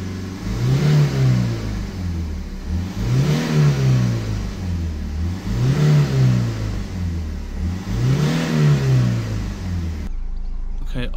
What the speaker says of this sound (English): Let's hold the revs back up around sort of 3000 RPM.